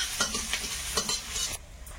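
Dried red chillies and garlic frying in hot oil for a leafy greens dish give a steady close sizzle, with a few soft stirring scrapes before the frying dies back near the end.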